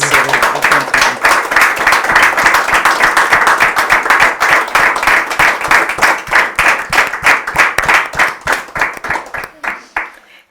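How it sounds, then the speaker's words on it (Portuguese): An audience at a testimony event applauds loudly, a dense roar of clapping that gradually thins into separate, rhythmic claps and then fades to a few last hands near the end. "Vamos dar uma salva de palmas a agradecer ao contributo."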